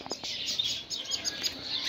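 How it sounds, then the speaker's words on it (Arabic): Several Fula canaries twitter and warble close by in a dense, continuous run of bright high chirps and trills, with no talking over them. "اي واحد منهم يقرا قدامك تسمع فول الفول"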